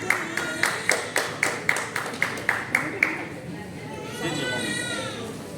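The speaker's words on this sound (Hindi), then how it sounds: "जोरदार तालियां for Dr. Abhishek Agarwal" At an awards ceremony, an audience claps in about a dozen sharp, evenly spaced claps, then the clapping gives way to a softer wash of crowd sound with voices underneath.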